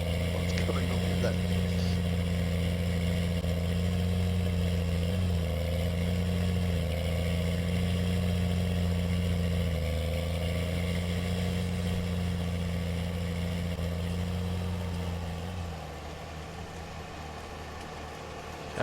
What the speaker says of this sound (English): I have to admit, these tractors do sound nice.